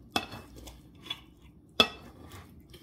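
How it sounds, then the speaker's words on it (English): Sharp clinks and knocks of a knife's back edge cutting through a steak cake against a plate, three distinct taps spread apart in a quiet room. "for the real test, instead of using the blade of the knife, cut on the back of the knife"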